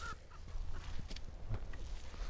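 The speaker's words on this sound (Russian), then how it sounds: "Гуси прилетели." Distant geese honk a few times over quiet outdoor background noise at a spring country garden plot.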